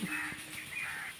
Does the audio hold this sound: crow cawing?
yes